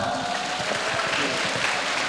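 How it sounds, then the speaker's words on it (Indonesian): A room full of people applauding together at a spiritual class session, steady dense clapping filling the whole stretch at moderate level with no break. "tepuk tangan dulu untuk kita semua."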